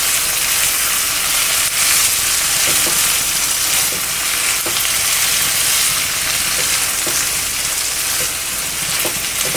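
Mutton liver curry fries in a pan, giving a steady, loud, close sizzle with faint scraping clicks as it is stirred, no voices present.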